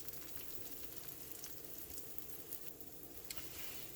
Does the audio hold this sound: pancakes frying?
yes